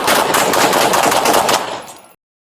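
Rapid automatic gunfire bursts loud and close during a shootout with deputies, a dense volley of overlapping shots lasting about two seconds before cutting off abruptly, with no talk.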